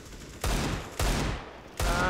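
Three loud, sharp gunshot bursts from the game CS:GO, deathmatch on the Desert map, spaced about half a second apart and each cracking across the full range before ringing off, with no talking over them.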